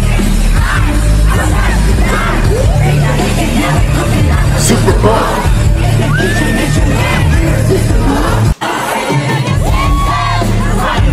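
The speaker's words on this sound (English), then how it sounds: "listen to the crowd!" A huge festival crowd at a concert at Lollapalooza Paris 2023 screams, yells and chants continuously and loudly, with a brief dropout near the end before the roar resumes.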